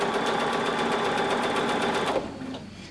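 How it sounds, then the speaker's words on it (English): Sewing machine stitching a quarter-inch seam through quilt strips, a steady fast mechanical whir with rapid needle clatter that runs continuously, then slows and fades near the end. "I'm going to place that line where I'm going to sew a quarter inch seam."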